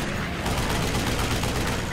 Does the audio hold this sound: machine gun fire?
yes